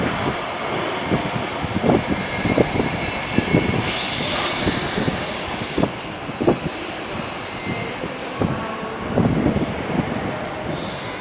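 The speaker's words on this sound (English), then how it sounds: "Next train arriving in is Arriva Trains Wales Class 175-1." An Arriva Trains Wales Class 175 diesel unit arriving at a station platform, rumbling with repeated wheel thumps and rattles, brief high squeals of brakes or wheels, moderately close and steady.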